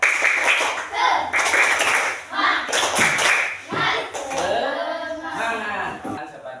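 Schoolchildren in a classroom religious lesson perform a rhythmic group clap in several sharp bursts separated by short pauses, with children's voices chanting between the claps.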